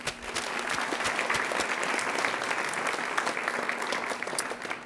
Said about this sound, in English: could we give one more round of applause?